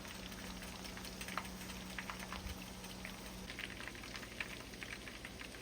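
Smashed chicken patties fry in a pan, a faint, steady crackling sizzle with scattered light pops and no talk.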